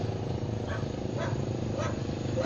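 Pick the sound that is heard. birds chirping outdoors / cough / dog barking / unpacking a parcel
dog barking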